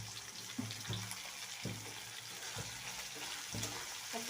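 Dried fish and fish fry in pans with a faint, steady sizzle, broken by a few soft scraping and stirring knocks at intervals.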